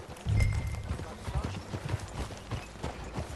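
Hooves of a ridden horse in Red Dead Redemption 2 clop along at a steady gait, close and moderately loud, with a low rumble and faint game sounds around them.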